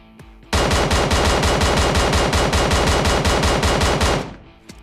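Rapid automatic fire from a QBU rifle in the PUBG video game, shot standing without the bipod: a dense, evenly spaced string of loud, sharp reports lasting about four seconds before cutting off.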